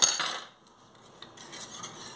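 A spoon stirring chocolate oat atole in a pot, giving light metallic scrapes and clinks against the pot, quiet and close with a short louder burst at the start.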